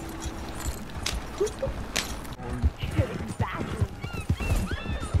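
Horse hooves clip-clop in the video game Red Dead Redemption, a run of irregular hoofbeats with a neigh, mixed under people talking.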